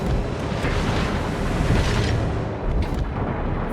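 Naval gunfire in the World of Warships game, a continuous deep rumbling roar of heavy guns and explosions that stays loud throughout, with no talk over it.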